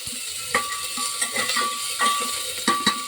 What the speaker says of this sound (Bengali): এবার আদা বাটা দিয়ে দেবো, সামান্য একটু নেড়ে নিয়ে